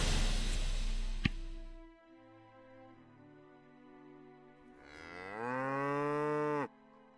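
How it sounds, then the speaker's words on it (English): A cow lows in a video game, a long drawn-out moo rising in pitch and then cutting off abruptly, heard alone and close after a brief burst of busier game noise. "Well, it's a cow, but it's a horsey cow."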